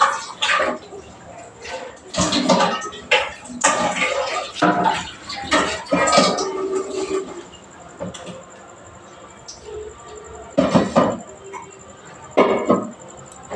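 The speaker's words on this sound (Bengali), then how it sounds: "ওই দেখো বাসন মাজার একজন" Dishes are scrubbed and rinsed close by during home cooking, with irregular bursts of clattering, scraping and splashing water that come and go in uneven clusters, loud and busy, with no voices.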